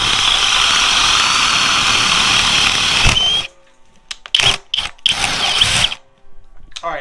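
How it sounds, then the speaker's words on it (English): A loud Flex power drill in turbo mode whines steadily for about three seconds while boring into knotted wood, then cuts out and revs again in several short, uneven bursts. "I'm actually gonna put it in the knotted area because this drill is more powerful"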